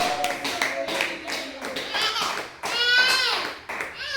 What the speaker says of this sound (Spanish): Aplauda el nombre de Jesús.